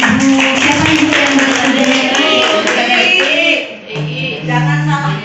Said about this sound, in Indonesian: tepuk tangan untuk Ibu